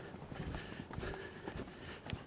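A horse canters around an arena, its hooves thudding in a quick, regular three-beat rhythm at moderate distance, with faint background noise and no clear talk.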